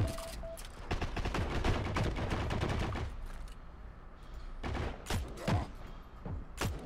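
Sustained bursts of rapid automatic gunfire and scattered single shots in the World War II shooter Heroes & Generals, dense and close, with brief lulls between volleys.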